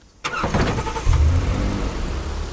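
Car in a Roblox video game starts up with a sudden burst, then engine rumble and revving hold steady, close and loud with no talk.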